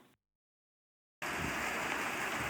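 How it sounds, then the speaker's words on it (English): Steady rain begins abruptly after a second of silence, a dense continuous hiss of drops pattering on surfaces, loud and even to the end. "you can hear it, it started to rain"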